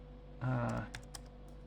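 Keys on a computer keyboard are struck in a short burst of close clicks, followed by a couple of isolated taps in a quiet room.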